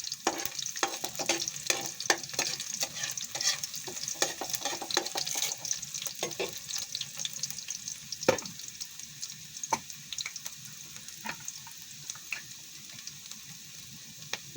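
A spoon stirs sardines frying with glass noodles (sotanghon) in a pan, producing a steady sizzle under repeated scraping clinks in an irregular rhythm, close and without voices.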